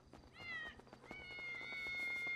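Several cats meow in GTA 5, a crowd of them in an old lady's house, with two drawn-out high meows close by over a busy background of game noise.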